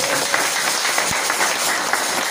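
Clapping from an audience at a talk or gathering, a short burst of scattered claps over a noisy, busy background with no clear voices.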